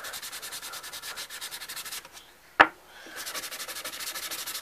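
Wood being sanded by hand with fine P240 sandpaper, a steady rhythmic rasping of back-and-forth strokes that pauses briefly around a single sharp knock before the rubbing resumes.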